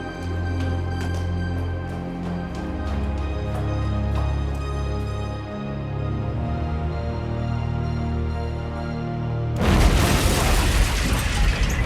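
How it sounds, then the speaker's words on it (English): A bomb blast tears through the Israeli consulate seven floors up, a sudden loud broadband bang with crashing debris arriving late, after a long stretch of low rumbling tones and scattered ticks. "Just before 2 p.m, the bomb rips through the consulate"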